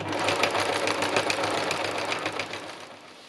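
A sewing machine stitching fabric runs in a fast, steady mechanical rattle, close and continuous, fading slightly at the end.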